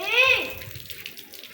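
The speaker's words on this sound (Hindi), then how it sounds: "इतना सारा पानी निकल रहा है" Water gushes and splashes loudly during kids' summer water play, strongest in the first half-second, with a voice rising over the stream before it settles into a steadier, softer rush.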